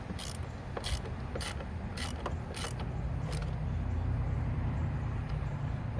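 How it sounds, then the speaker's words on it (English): A torque wrench ratchets in short quick bursts while tightening the air filter housing on an Audi Q5, several crisp clicks close by, followed by a low mechanical rumble. "grab my torque wrench"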